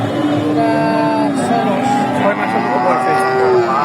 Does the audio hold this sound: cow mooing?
yes